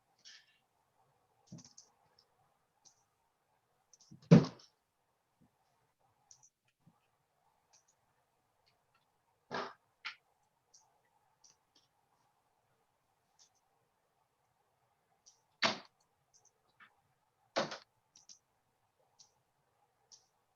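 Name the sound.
keyboard typing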